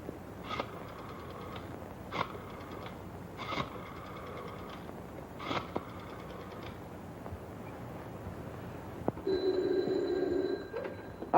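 An old 1930s telephone bell rings in four or five evenly spaced short bursts, moderately loud against a low hum, then a different tone sounds near the end.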